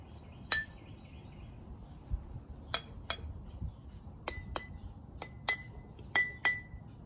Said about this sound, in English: Find a stick or, again, a wooden spoon and hit each jar.